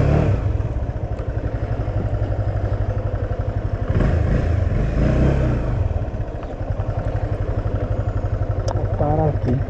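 A Honda CB 300F Twister motorcycle idling close by with a steady, loud chugging beat, while someone talks over it and some light clatter drifts in.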